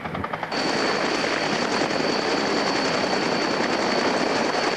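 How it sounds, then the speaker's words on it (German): A military search-and-rescue helicopter hovers loud and close, its rotor and turbine roar steady and dense throughout while a casualty is hoisted aboard; a brief choppier patch opens the sound. "und wird jetzt zusammen mit ihm wieder an Bord des Hubschraubers geholt"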